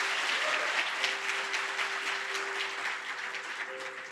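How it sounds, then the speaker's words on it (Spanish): A church congregation applauds steadily for several seconds, a broad, moderately loud wash of clapping with a faint sustained tone running beneath it. "¿Por qué no le das un fuerte aplauso al Señor?"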